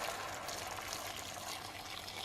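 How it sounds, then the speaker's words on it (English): Boiling water poured from a kettle over chopped vegetables and crumbled stock cubes for a low-carb keto soup, a steady, even rush of liquid that runs unbroken for the whole moment with no talking. "crumble over a couple of stock cubes and then pour over boiling water"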